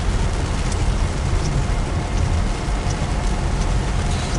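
Steady rain falls around a car driving through Palatka, Florida, near a barge port, a dense, constant hiss with soft low rumble throughout and no voices.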